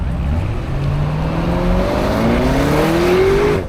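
A Lamborghini Urus SUV, a 2200 kg super SUV, accelerates hard with a loud, close engine roar whose pitch climbs steadily through the gears, the whole sequence running without pause before cutting off abruptly.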